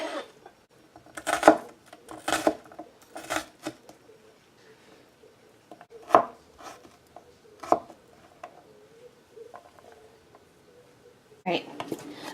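Knife rocking through vegetables on a cutting board during home cooking, giving irregular bursts of sharp clicking taps in clusters with quiet gaps, fairly close, with no talk over it.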